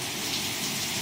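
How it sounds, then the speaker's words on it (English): Torrential rain pours outside in Kitchener, Ontario, a dense, steady hiss of rain hitting surfaces, loud and unbroken, with no voices. "And now back to outside in the torrential rains of Kitchener, Ontario."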